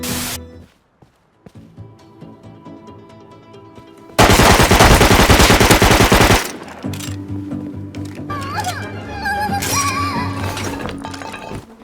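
Gunfire in the video game Rust erupts as a sustained, very loud automatic burst lasting a couple of seconds, followed by scattered shots and game noises, with someone talking over it.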